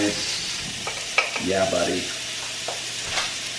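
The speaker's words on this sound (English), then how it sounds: "let that start browning up real" Ground beef with taco seasoning browning in a pan, giving a steady low sizzle with a few scraping stirs, while a man makes a brief remark over it.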